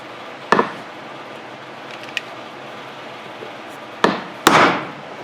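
Two or three heavy metallic big-hammer blows on a Dodge Ram Cummins front driveshaft, well spaced, with a loud ringing strike near the end against quiet background.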